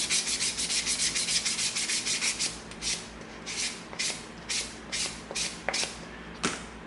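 A 320-grit sanding stick rubs across EVA foam in repeated close strokes, quick and dense at first, then slower, separate swipes with brief pauses between them.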